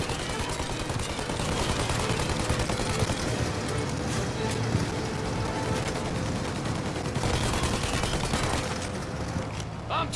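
Continuous, dense gunfire in the video game Mafia: Definitive Edition, aimed at a plane, forms a loud, unbroken fusillade of overlapping shots that lasts the whole stretch.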